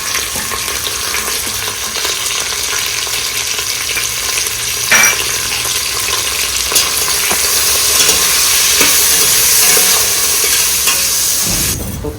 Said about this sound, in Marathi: फोडणीवरती सगळ्या भाज्या टाकणार आहोत.